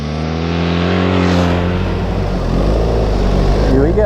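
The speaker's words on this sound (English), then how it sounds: "today I want to push the bike in the dirt" A BMW R 1300 GS Adventure Trophy motorcycle is ridden hard on dirt. The engine rises loudly in pitch as it accelerates and stays close and continuous throughout.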